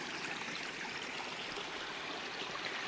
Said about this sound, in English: We made it to the stream in the gully.